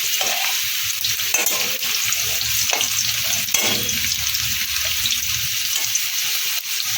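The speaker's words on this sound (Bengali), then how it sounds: "কুমড়োর এক পাট ভাজা হয়ে গেছে কুমড়োগুলোকে উল্টে দিলাম" Pumpkin pieces fry in a pan and get turned over, a loud, close, steady sizzle punctuated by several scraping and clattering spatula flips, with no voices.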